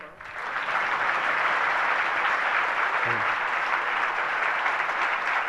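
An audience at a Guru Purnima festival gathering breaks into sustained, dense applause that swells within the first moment and holds steady and loud throughout.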